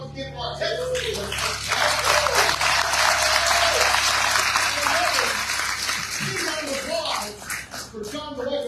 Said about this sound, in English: Big round of applause once again for our Texas leaders